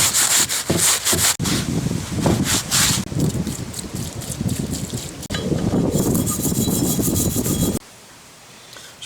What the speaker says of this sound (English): I'm just going to wipe it down and wash it off with mineral spirits